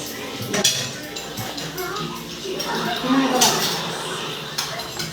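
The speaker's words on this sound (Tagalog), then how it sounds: "Ako na lang maghuhulog ng pinggan." Plates and dishes are set down with scattered clinks and knocks, under steady conversation.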